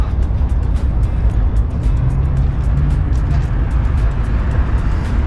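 Traffic on busy, rough industrial 7th Street in Victorville, a loud constant roadside rumble of passing vehicles with heavy low-end noise and repeated ticking clicks throughout.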